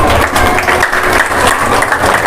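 A crowd at a Kabir bhajan satsang in Koiripur claps loudly and steadily throughout, a dense, continuous wash of applause with no speech standing out.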